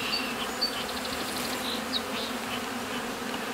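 A small early-season honeybee swarm buzzes and fans in a continuous, fairly faint drone, with a few higher individual bee passes over the steady hum.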